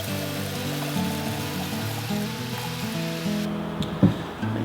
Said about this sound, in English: We're going to pour 1 litre of our 91 fresh fuel into it,